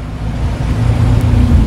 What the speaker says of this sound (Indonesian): Saat ini saya di atas kapal.